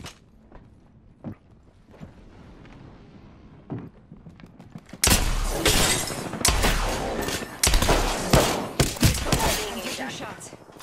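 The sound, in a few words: gunfire from a video game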